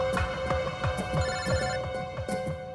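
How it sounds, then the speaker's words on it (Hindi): Telephone ringing in a repeating bell pattern, loud and close, with no talk over it. "एसीपी साहब का फोन।"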